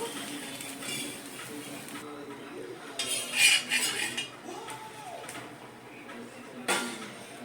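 A dosa is lifted off an iron tawa with a metal spatula, making scraping and clinking against the pan, with a louder burst of scraping midway and a light clink near the end.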